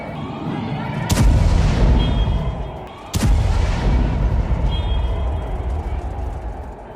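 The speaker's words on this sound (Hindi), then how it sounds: "यहां पर डिफेंस सिस्टम ने ईरान की मिसाइल को मार गिराया।" Two heavy booms about two seconds apart as air defenses intercept an Iranian missile over Dubai, each blast rolling into a long rumbling echo under a steady low roar.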